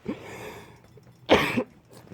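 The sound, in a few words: cough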